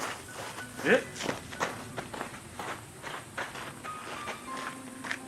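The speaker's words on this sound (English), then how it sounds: "sound of footsteps are heard as if someone or something was following him" Footsteps near a shrine at night, a run of irregular steps scuffing along at moderate distance with a louder pair of thuds near the start, over a steady hiss of background noise and faint vocal sounds.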